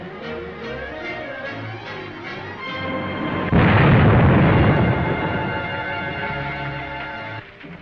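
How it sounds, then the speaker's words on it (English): A loud explosion blast on a closed road, booming in suddenly after a stretch of dramatic orchestral music and rolling on as a broad rumble that slowly fades under the score. "Too bad. Gorman drove right into that blast."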